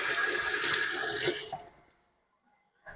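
Tap water runs steadily into a sink while hands are washed in a home kitchen during cake baking, a broad close hiss that cuts off abruptly and falls silent before a brief knock at the end.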